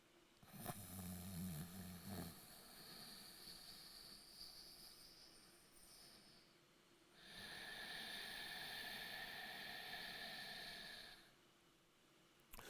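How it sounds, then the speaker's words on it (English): Nasal yoga breathing with a raised tongue, giving a snore-like hiss: a voiced inhale, then a long steady breath and a second sustained breath, close and alone. "When you inhale, you're raising your tongue so as it feels as if you're snoring."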